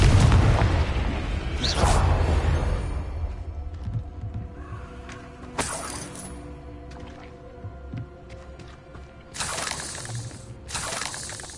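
A Confringo fire spell goes off in Hogwarts Legacy with a deep booming explosion, followed by a few further bursts and whooshes over a low rumbling game soundscape.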